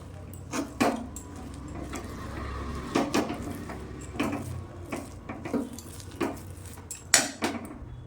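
A ladle scrapes and knocks against a pot while boiled moong dal is stirred with rice flour, giving irregular clinks and thuds spaced a second or so apart, with a low background hum.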